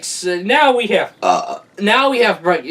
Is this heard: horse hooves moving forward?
no